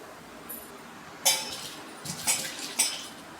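A metal cooking pan clanks and scrapes as it is set on a gas stove's grate, a few sharp knocks close by, with a faint hiss in the background.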